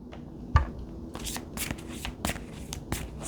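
Tarot cards being handled and shuffled close up, a run of crisp riffles and sharp snapping flicks in quick, uneven bursts.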